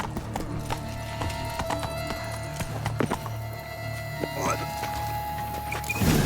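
A horse gallops in The Witcher 3 with steady, close clip-clop hoofbeats, a snort and whinny breaking through alongside game music and ambient sound, and a voice speaks briefly.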